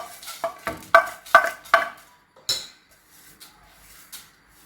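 Spices roasting in a dry pan for chicken 65, a run of sharp scraping and tapping strokes from a spoon against the pan, then a few softer scrapes fading out.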